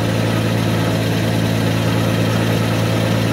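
A 1991 Mercedes 190E engine idles steadily and loudly with a low rumbling hum, plus a rattly, clattering mechanical noise running throughout.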